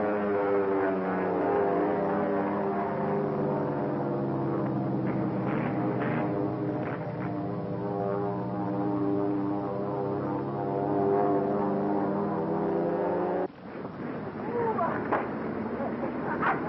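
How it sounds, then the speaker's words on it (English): A propeller airplane in a 1936 aviation film drones overhead in a steady, loud, harmonic engine hum that persists for the full length, shifting abruptly near the end, with voices talking over it. "Your man Blackwood can certainly handle a plane"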